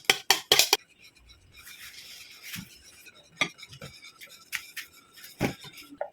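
A spoon clinks and scrapes around a bowl as banana muffin batter is mixed with two eggs, giving irregular sharp taps and soft stirring rubs, close and fairly loud, with no talk.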